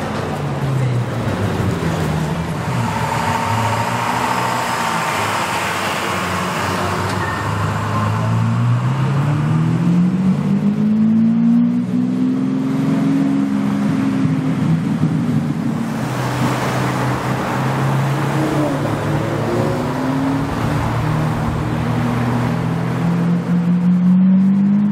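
Lamborghini Aventador and Ferrari cars in a convoy pass by, loud engine notes rising and falling steadily for about twenty-five seconds amid wind and street noise.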